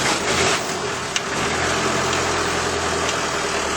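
A Toyota FJ40 engine runs at a steady, rumbling idle after starting, loud and close throughout with no voices.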